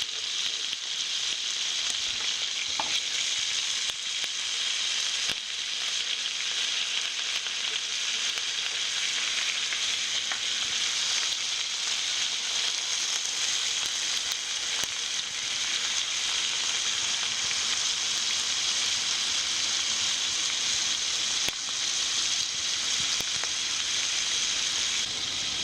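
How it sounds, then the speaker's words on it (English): Shrimp sizzles steadily in bacon fat and gravy in a frying pan, a dense, even crackle of frying that holds constant throughout with no voices. "So while you have your bacon here in the pan, you can go ahead and toss in your shrimp."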